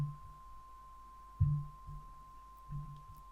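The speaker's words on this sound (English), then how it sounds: "if I add a sine wave" A steady pure tone hums continuously, with short low thumps and blips scattered beneath it.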